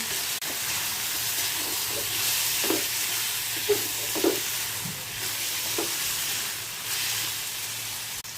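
Bean seeds and potato fry in a pan as chopped tomato goes in, a continuous close sizzle and hiss with a few soft stirring knocks scattered through.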